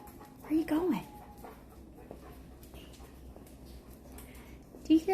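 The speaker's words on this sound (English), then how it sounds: "Do you hear the other puppies?" Puppies whimper and pant in short bursts, a brief whine near the start and another near the end, over a low steady background while a person talks nearby.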